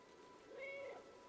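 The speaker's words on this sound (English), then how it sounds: "Pressing circle to meow" A single short, clear meow from the cat in the video game Stray, close and alone over a faint background hiss.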